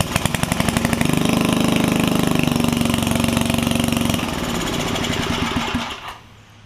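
A 50-year-old Wizard tiller's small engine, which has a bad ignition coil, cranks and sputters loudly up close in rapid pulsing bursts, briefly catching before winding down and falling silent.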